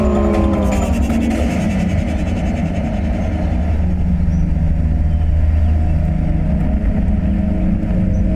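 A car engine rumbles loudly up close, revving and then settling into a steady droning run as the vehicle pulls away, with a tense musical undertone and no speech.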